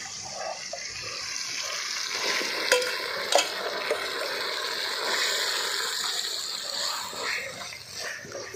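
Chicken pieces being stirred into sizzling masala in a pan for chicken gravy, a close, continuous frying hiss with scraping stir strokes and a couple of louder clanks.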